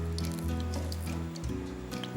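Bay leaf, turmeric, chili and coriander tempering in hot oil in a home kitchen, giving a steady close sizzle and crackle that holds throughout, with small bursts and no talking.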